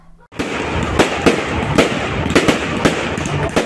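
Fireworks explode in a rapid, irregular series of sharp bangs over a dense crackling wash, loud and fairly close, with no talking.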